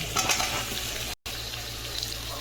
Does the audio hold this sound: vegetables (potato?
yes